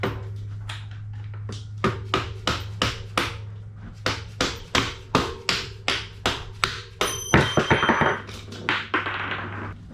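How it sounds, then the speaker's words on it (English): A hammer pounds the axle out of a vintage Honda XL dirt bike wheel, a close, loud run of about fifteen metal strikes in an uneven rhythm, followed by a clattering rattle near the end. "Now when I pound this axle out, there's going to be a little washer that drops out"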